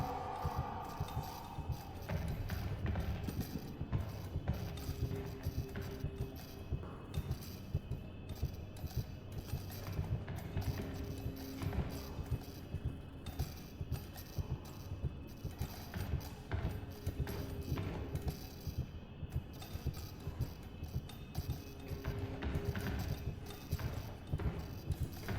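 A monster stomps through bunker tunnels in the horror game Amnesia: The Bunker, a steady run of heavy, rhythmic thuds continuing for over twenty seconds at moderate distance, with no talk over it.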